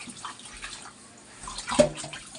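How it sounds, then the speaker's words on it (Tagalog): Weak, low-pressure trickle of water runs from a household tap, a faint, thin splashing that swells briefly near the end, with no voices over it. "ang hina talaga ng tubig namin dito. Tsaka yung gripo namin, ang hirap."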